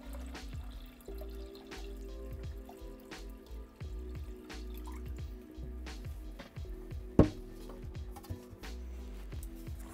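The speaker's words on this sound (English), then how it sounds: "Pour the water back in." Water is poured back into a container, a steady close trickling and dripping with irregular splashes and one sharp knock partway through.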